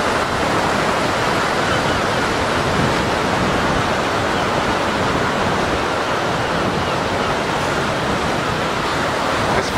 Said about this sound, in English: We can count the waves in the minute.